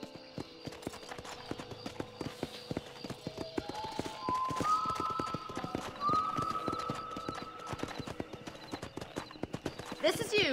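Horse hooves clip-clop steadily at a walking pace in Red Dead Redemption, with a tonal music-like background and occasional other game sounds layered over them.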